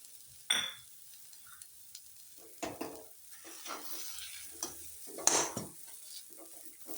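Sweet potato sheera with jaggery water, dry fruits, dry ginger and cardamom is stirred in a pan with scattered, fairly quiet scraping strokes and a sharp metallic clink or two, with no voices.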